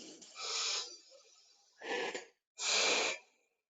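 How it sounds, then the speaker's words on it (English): Three audible breaths during a therapy exercise: a long inhale, a shorter breath, then a strong exhale, each close and airy with pauses between. "And breathe."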